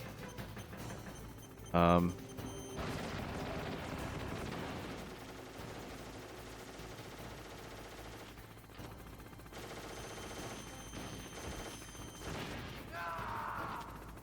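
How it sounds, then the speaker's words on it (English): Rapid bursts of Hind helicopter gunfire in the Metal Gear Solid boss fight, rattling steadily under a constant game din, with a louder sharp blast near the start and someone talking over it. "Just needs to have that Hind keep shooting at him."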